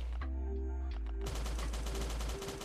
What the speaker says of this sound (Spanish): Fui con el disparo disperso como un gil.